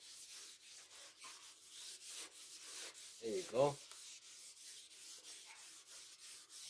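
Wet sanding on a car body panel before painting, a soft rhythmic rubbing stroke repeated steadily under quiet background, with a brief louder scrubbing burst midway and a short spoken remark.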